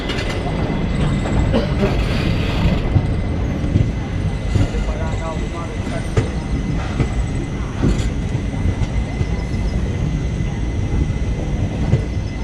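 Karnataka Express pulling into Solapur railway station, a steady dense rumble of rolling wagons and wheel noise holding loud and even throughout, with faint station sounds and brief metallic squeals mixed in.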